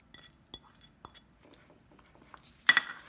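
A spoon stirs crushed spices, lemon pepper and cumin into a bowl of chicken filling for frankie rolls, giving a few light, scattered clinks against the bowl and then a brighter cluster of scraping taps at the end.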